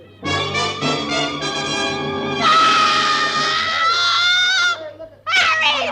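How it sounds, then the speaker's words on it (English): A woman shrieks in a 1940s-style radio suspense drama, a loud, piercing, sustained wail that rises and wavers for several seconds, breaks off, then returns sharply. "she threw up her hands and shrieked"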